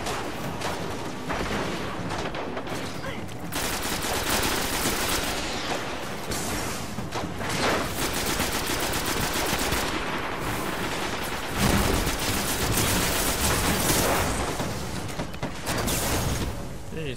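Sniper fire and heavy combat in the video game Destiny during the Venus strike against the Archon Priest, a dense, continuous barrage of gunshots and explosions that stays loud for the whole stretch.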